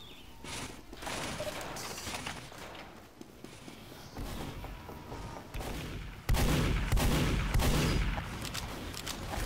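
Rapid gunfire rattles in a Team Fortress 2 match, with bursts of shots and heavy thuds layered over busy game noise, growing louder and denser toward the end.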